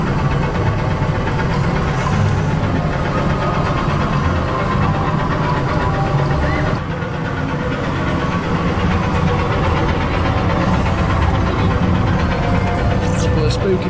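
A tractor's engine runs steadily during a ride around the gardens at Paultons Park theme park, a continuous loud rumbling drone with knocking undertones and people talking over it.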